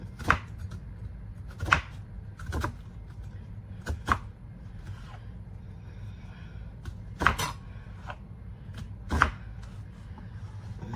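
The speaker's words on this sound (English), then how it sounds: "I'm just going to cut up just a little bit more of onion, not a whole lot." A knife chops onion on a cutting board in a series of crisp, irregularly spaced taps, close and moderately loud, without any talk.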